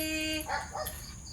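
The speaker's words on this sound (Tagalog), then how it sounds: "Oh, may narinig na aso." A dog barks a couple of times at a moderate distance outdoors near a house, short sharp yelps over steady background noise.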